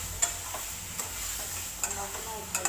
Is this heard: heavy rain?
no